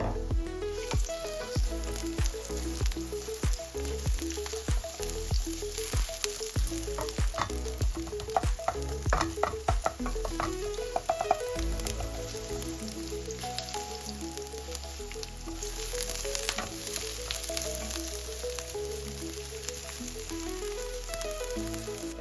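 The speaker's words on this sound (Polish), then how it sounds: "Na rozgrzaną patelnię wlewam oliwę i wrzucam cebulę" Onion sizzles and crackles in hot olive oil in a pan, with occasional stirring sounds and music playing over it.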